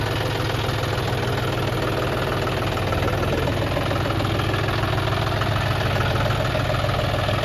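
A John Deere 5105 tractor engine idles steadily nearby, a constant low rumbling chug with no change in pace throughout.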